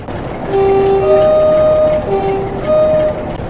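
Several loud, steady Class 47 diesel locomotive horn blasts in the video game Train Sim World 5, sounding one after another, some long and some short, over a constant engine rumble.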